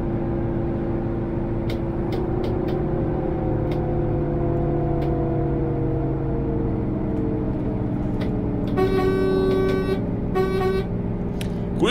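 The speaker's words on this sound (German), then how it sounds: "der hat auch gehupt" Car horns honking in the bus simulator game OMSI 2, a few short toots followed by two longer blasts over a steady engine rumble, no talking.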